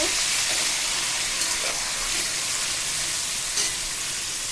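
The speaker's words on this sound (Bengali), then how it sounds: "আমি সেই তেলেই দেখো আমি সব সেই ম্যাগনেট করা মাংস কিন্তু ছেড়ে দিলাম" Marinated meat sizzles loudly in hot oil for biryani, a dense continuous frying hiss with occasional pops and stirring, no talk.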